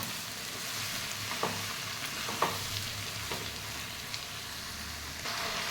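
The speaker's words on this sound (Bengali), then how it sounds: "হলুদ বাটা, হলুদ গুঁড়ো। মশলাটা ভালো করে কষে নেব।" Turmeric paste and ground turmeric sizzle and fry steadily in a pan as a spice masala is sautéed for a taro curry, with a few soft stirring scrapes over the continuous hiss.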